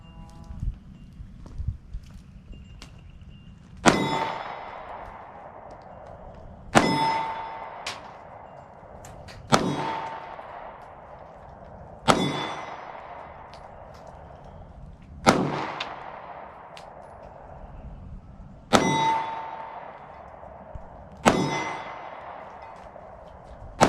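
SCCY CPX-1 pistol shots fired at an outdoor range toward steel targets, eight sharp loud reports spaced a few seconds apart, each with a ringing decay, and no talking.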